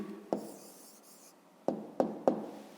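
A pen taps and scratches on paper in a few short, sharp strokes separated by pauses, quiet and close with no talking.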